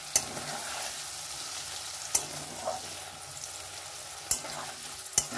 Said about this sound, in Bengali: কাঁচা পনির কেউ খায় না আমাদের বাড়িতে, হালকা করে ভেজে নেবে।